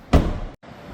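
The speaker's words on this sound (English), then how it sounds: "So let's shut this door" A car's rear door swung shut with a single solid thump, followed by a short muffled rumble that cuts off abruptly.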